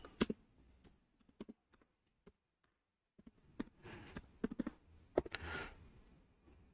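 Keys clatter on a computer keyboard while a Power BI report title is typed, irregular sharp taps in short bursts with pauses, close and fairly quiet.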